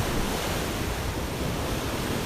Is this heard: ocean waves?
yes